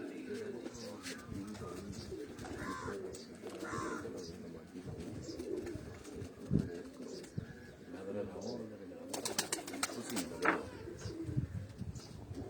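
Pigeons at a Punjabi pigeon keeper's loft coo softly and repeatedly at a distance, with faint calls from other birds and people talking over them.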